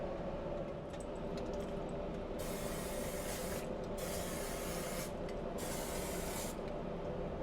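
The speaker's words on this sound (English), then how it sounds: "she's spraying it directly onto the grill" Cooking spray hisses onto a grill in several short bursts, quiet and fairly close, with a steady low background between the sprays.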